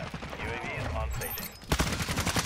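Rapid automatic gunfire rattles in a Call of Duty MW2 match, with a dense burst of sharp shots breaking out in the second half over a busy mix of game sounds.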